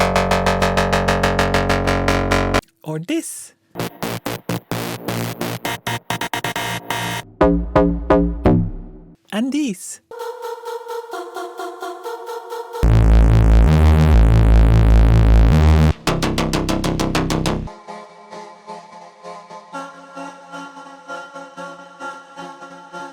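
A run of varied Serum 2 techno synth presets, shifting between buzzy tones, pulsing stabs and a heavy bass-driven section, with a few brief spoken words in between.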